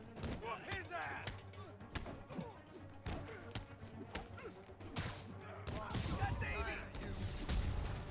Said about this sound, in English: Oh, friggin' rockets, man.